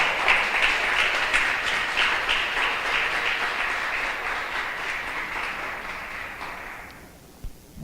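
A church congregation applauds during a seminar on temperaments, steady broad clapping lasting several seconds, loud at first and gradually thinning before cutting off near the end.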